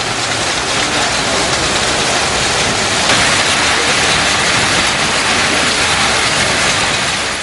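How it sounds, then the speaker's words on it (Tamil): Heavy, steady rain falls continuously, a loud, dense hiss that holds even with no pauses throughout, with no voices. "இன்றைய தினம் முல்லைத்தீவு மாவட்டத்தில் முல்லை நகரம் உள்ளிட்ட சில பகுதிகளில் மழை பெய்துள்ளதாக"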